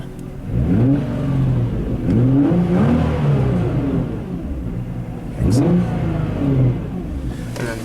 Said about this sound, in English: You want to give us a couple of revs